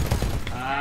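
Gunfire in the Titanfall video game: a short burst of several quick shots, fairly loud, fading into a lingering tonal hum with what sounds like talk mixed underneath.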